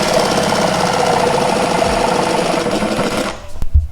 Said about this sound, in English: So in order to make this cut right here, we can use a handsaw or a jigsaw.